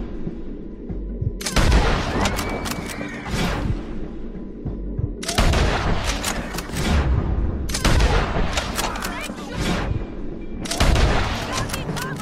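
Gunfire in the Western video game Red Dead Redemption 2 comes in several loud clustered volleys of sharp shots and booms, with quieter gaps between bursts and some voices mixed in.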